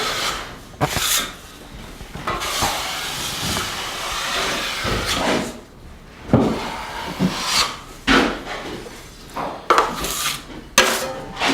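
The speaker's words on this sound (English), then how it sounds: "I just take my 14-inch trowel and go right along the edge of the corner" A 14-inch drywall trowel scrapes and rasps as it spreads the first coat of joint compound along a corner edge, in long, close strokes with brief pauses between passes.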